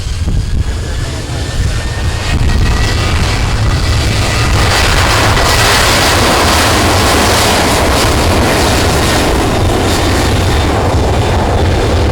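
A United Airlines Boeing 737-800 takes off from runway 07 at St. Kitts. Its engines make a loud, continuous broadband roar that builds partway through, and wind buffets the microphone.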